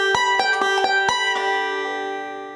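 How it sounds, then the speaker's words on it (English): A banjo plays a backward roll followed by a forward roll over chords, with a quick cluster of bright plucks in the first second, a few spaced notes, then a ringing pause as the strings decay. "So there's a backwards roll first, and then a forward roll, and then a pause."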